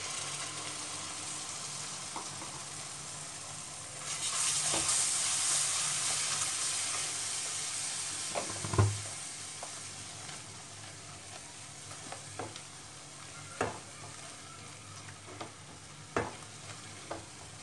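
Tomato puree simmers in ghee on a low flame for dal makhani, a quiet steady hiss that grows a little stronger partway through, with occasional soft clicks and taps from a spoon or pot and no talking.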